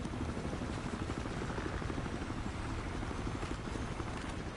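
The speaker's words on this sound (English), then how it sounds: "Why don't you get away from that spy helicopter?" A spy helicopter in the Battlefield Hardline video game thrums steadily with a continuous rotor chop and engine roar, even and sustained throughout with no voices.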